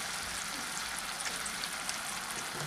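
Spice masala sizzling in hot oil for pointed gourd curry, with sour yogurt added over low heat; a steady, even frying hiss runs throughout at moderate level with no talk.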